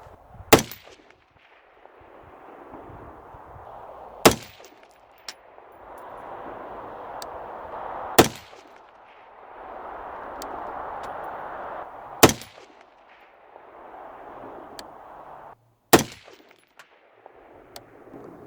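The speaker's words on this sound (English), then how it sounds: "We're gonna do some shots at 100, see where we're shooting at." Rifle test shots fired at a 100-yard target while zeroing a Leupold VX-1 4-12x40 scope: five sharp, loud cracks spaced about four seconds apart, with a low steady outdoor rumble between them.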